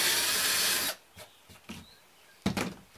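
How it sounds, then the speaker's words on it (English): A drill countersinks screw holes in wood, first as a loud steady whirring burst that stops abruptly, then as a few short scraping and knocking sounds, with a sharper clatter near the end. "I'm using this to countersink my screws"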